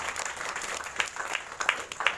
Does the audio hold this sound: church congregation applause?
yes